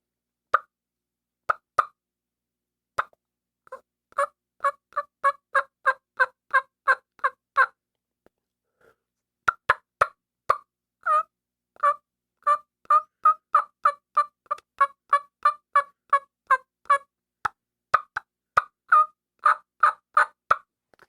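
A turkey hen call made by a person on a caller, imitating a hen waking up: bursts of short, evenly spaced yelps separated by brief pauses, clear and close.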